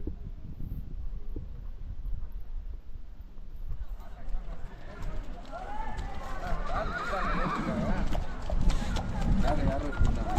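Horses on the trekking trail to Baisaran valley, a loud whinny rising in the second half over a steady background of hoof clip-clops and outdoor crowd murmur, with people talking nearby throughout.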